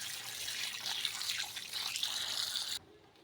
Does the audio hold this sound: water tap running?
yes